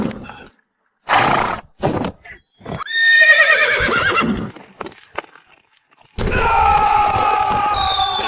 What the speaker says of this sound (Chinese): 你听马蹄声